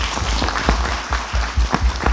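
Audience applause at a USANES26 conference session, a steady wash of clapping from a crowd that carries through the whole moment without speech.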